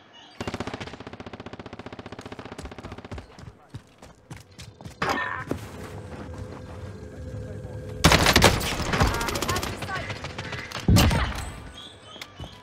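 Rapid automatic gunfire and single shots ring out in a Call of Duty Warzone match, with long bursts, loud cracks and explosive thumps in heavy bursts, while players talk over the action.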